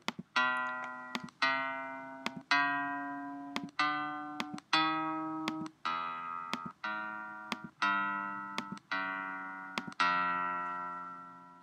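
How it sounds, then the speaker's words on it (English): Musical note sound files from a music learning app play one after another, about a dozen clean, sustained synthetic tones, each starting sharply and fading before the next, at a steady rhythm and moderate volume. "so these are the different notes"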